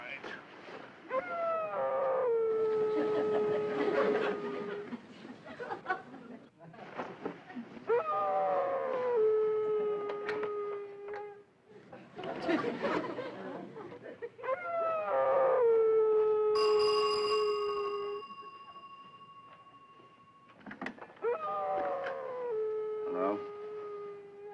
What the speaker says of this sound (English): Henry, you've got to go downstairs and do something about that dog